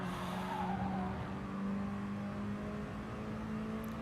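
Mini Cooper race cars braking and revving on the Brands Hatch circuit, a steady engine drone with a faint tyre squeal, heard at moderate distance and fairly low in level.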